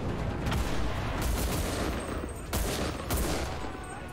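Dense gunfire in the World War II shooter game Enlisted: a continuous crackling fusillade with sharper bursts standing out, moderately quiet and steady over its length.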